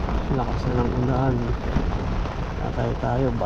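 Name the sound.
heavy rain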